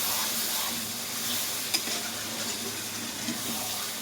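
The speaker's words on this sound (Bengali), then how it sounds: "তো দেখো আমি এবার এটা নাড়িয়ে নেব।" Chicken liver and stomach with fried onion and spices are stirred in a pan, giving a continuous close sizzling hiss with a couple of sharp spoon scrapes against the metal.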